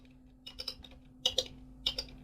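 Someone types on a computer keyboard during a coding tutorial on a simple keylogger. Irregular bursts of crisp key clicks come close up over a steady low electrical hum.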